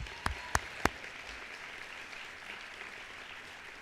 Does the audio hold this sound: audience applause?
yes